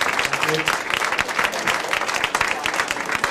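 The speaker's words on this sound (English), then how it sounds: "thanks for giving a big round of applause" Audience at a whisky seminar claps in a dense, continuous round of applause, close and loud throughout, with a voice faintly under the clapping.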